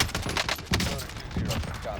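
Gunfire in Call of Duty: Warzone crackles in dense rapid bursts, a sharp loud shot standing out midway, with a voice talking faintly underneath.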